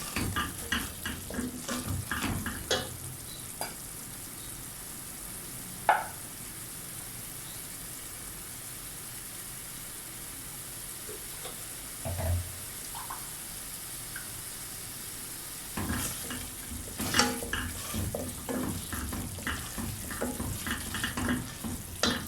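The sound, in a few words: masala spices frying and being stirred in a pan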